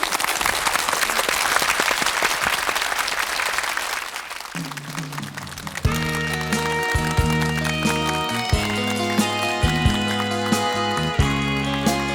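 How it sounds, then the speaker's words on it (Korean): A studio audience at a 1995 Korean late-night music talk show claps loudly for about five seconds, then the applause gives way to the opening of a song with steady instrumental accompaniment. "박수로 노래 좀 청해 주시죠"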